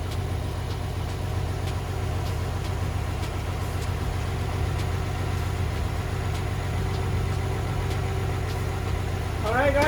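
A Nissan 300ZX Z32 with a freshly built twin-turbo VG30DETT engine idles after its first start, a steady low rumbling drone that holds even throughout and rises slightly at the very end.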